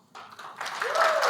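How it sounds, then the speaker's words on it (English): Applause from a conference audience welcoming a team of speakers to the stage, starting sparse after a short quiet moment and swelling into steady clapping, with a faint voice woven in near the end. "Please give a round of applause for the team from the Ohio Gap Closers."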